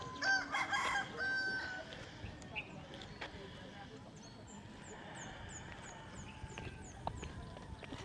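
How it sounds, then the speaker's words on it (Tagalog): Roosters kept as fighting cocks crow out in the open, one crow loud and nearby at the start, with faint chirps and scattered bird calls after it. "Daming panabong dito."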